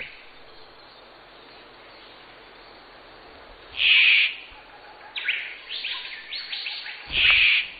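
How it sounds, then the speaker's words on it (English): A male Victoria's riflebird perched on a dead stump gives two loud, harsh squawks a few seconds apart, with fainter rasping calls between them over a quiet insect-buzzing background. "The dapper bird belts out a seductive squawk."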